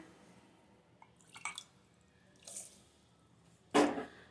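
Half a cup of water poured onto sugar in a pan over a low flame, making syrup for balushahi: a few brief, soft wet splashes and drips, the last one louder and closer, with quiet gaps between.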